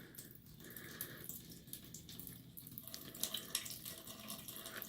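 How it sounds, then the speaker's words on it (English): Water trickles and drips as a water heater tank drains, a continuous faint splashing flow with irregular louder drops and spatters, close by and without talk. "Yeah, it's still kind of dripping."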